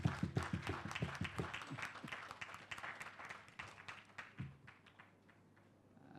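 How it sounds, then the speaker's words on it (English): An audience at a senior citizens' spelling bee applauds. The clapping is dense and close at first, with strong individual claps, then gradually thins into scattered, fading claps over several seconds. "Can we give her another round of applause"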